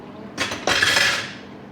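Dishes being washed: plates and cutlery clink and scrape against each other in a few close, busy bursts, with no talking.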